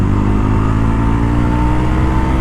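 A Yezdi Roadster motorcycle's exhaust drones loudly and steadily up close as it accelerates on an open road, with a thick low rumble throughout.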